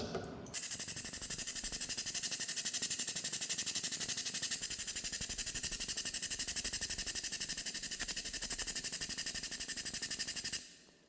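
A digital ultrasonic stainless steel milk stirrer for a milk collection unit switches on and runs steadily, giving a constant high-pitched whine over a rapid buzzing pulse. It stops abruptly after about ten seconds, and no one speaks.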